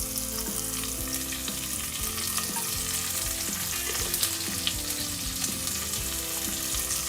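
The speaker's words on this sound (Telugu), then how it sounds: "వీటిని ఒకసారి ఫ్రై చేసుకోవాలి. సన్నగా తరిగిన ఉల్లిపాయ ముక్కలు" Finely chopped onions fry in hot oil in a pan for a vegetable pulao, giving a dense, continuous close sizzle broken by scattered light taps and stirring scrapes of a spoon.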